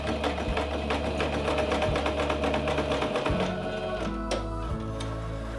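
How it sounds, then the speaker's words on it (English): Home sewing machine running a straight topstitch along the top of a flattened seam on a cottagecore oversized-collar shirt, a steady close rapid mechanical whir with even needle ticks that slows and pauses briefly near the end. "I will make it flat like so and secure it with a straight stitch here on the top."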